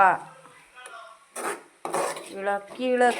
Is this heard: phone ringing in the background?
no